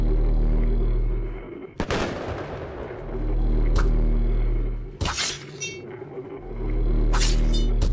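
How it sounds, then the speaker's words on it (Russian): An explosive flask bursts in the horror game Fear and Hunger, giving a sharp shattering crack followed by crashing debris, then a few more loud impacts ring out over a low droning background. "А пускай будет взрывной флакон."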